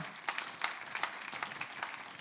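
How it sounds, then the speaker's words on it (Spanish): A church congregation at a Sunday service applauds, a soft, steady patter of many hands clapping at a distance with faint accents. "Dele ese fuerte aplauso, se lo va a dar a él."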